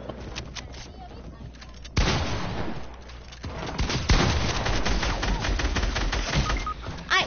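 Assault rifle fire in a shooter video game rattles in rapid, loud bursts, quieter at first and then heavy and near from about two seconds on, with brief voices mixed in.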